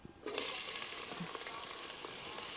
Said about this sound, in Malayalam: ഈ എണ്ണയിൽ തന്നെ ഇതാ ഈ ഉള്ളി ഇട്ട് നമുക്ക് പൊരിച്ചെടുക്കാം.